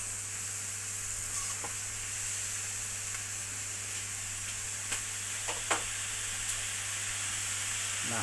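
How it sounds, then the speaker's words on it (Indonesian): Cassava leaves fry in oil in a pan, giving a steady close sizzle and hiss while a utensil stirs them with occasional soft scrapes and clicks, with no talking. "kalau masak pucuk singkong begini harus sering-sering diaduk ya"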